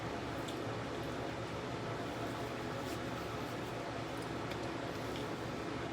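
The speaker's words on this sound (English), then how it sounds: "Just give myself a little rinse." Water splashing steadily while someone rinses their face after shaving, a continuous close hiss of running water with faint splashes and no talk.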